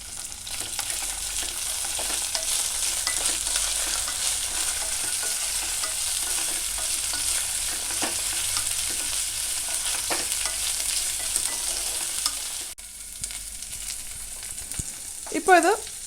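Cashew nuts fry in a pan for a mushroom stew, a steady close sizzle with light stirring scrapes running throughout, dropping briefly near the end before a short clatter.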